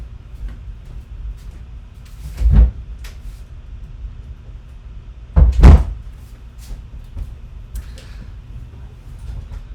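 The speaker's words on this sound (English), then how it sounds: "Let me open the door." A door is opened indoors at home during a physics lesson, giving two short muffled knocks and clunks a few seconds apart over quiet room tone.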